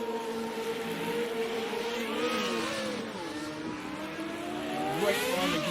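An FR35 race car accelerating on the Long Beach street circuit, its engine note climbing and falling through gears at moderate distance, with a steady whirring drone under the rising pitch.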